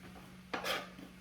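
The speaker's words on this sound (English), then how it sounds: "let me put this in the pan with the sausage, all this onion" Chopped onion tumbles into a pan already holding sausage: a single quick clatter and scrape of pieces landing, faint and close, in a quiet kitchen.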